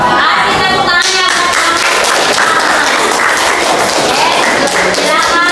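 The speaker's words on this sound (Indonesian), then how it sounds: "Kasih tepuk tangannya." An audience in a classroom gives a burst of loud, dense clapping that runs steadily throughout, with a few sharper taps and thuds mixed into the crowd applause.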